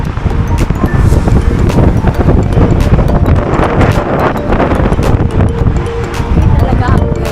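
Strong wind gusting through a Copenhagen street, roaring loudly and continuously across the microphone with buffeting rumble throughout, nearly masking everything else.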